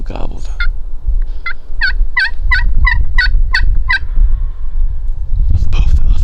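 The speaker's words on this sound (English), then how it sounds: "Just double gobbled." A wild turkey tom in Indiana gobbles twice in quick succession, the rattling calls loud and fairly near, carried over a low rumble of outdoor wind noise.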